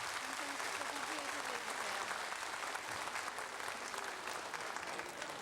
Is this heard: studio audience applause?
yes